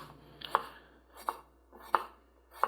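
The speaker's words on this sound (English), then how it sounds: "First, we need to cut some onions." Knife slicing onions into even slices on a cutting board, four crisp evenly spaced chops about every three-quarters of a second, close and distinct over a quiet background.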